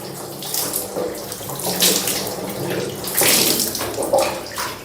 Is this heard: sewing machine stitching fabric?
no